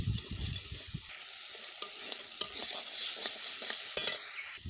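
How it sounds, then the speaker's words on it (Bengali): Homemade paneer frying over medium heat in a pan while being stirred, with close scraping and shuffling strokes over a constant bright sizzle, occasional louder clacks of the spoon, no voices. "সব কিছু এভাবে মিডিয়াম আঁচে রেখে ভাজতে হবে।"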